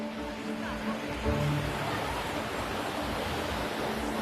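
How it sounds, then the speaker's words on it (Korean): Ocean surf on a Seychelles beach washes in as a steady, soft broadband roar, swelling slightly partway through, with a faint low hum underneath. "입구에서부터 들려오는 시원한 파도 소리"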